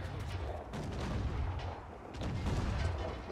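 Cannon fire aimed at a ship in Assassin's Creed IV: Black Flag, heard as a steady run of dense, rumbling booms and blasts that holds at moderate loudness through the whole stretch, with no one talking over it.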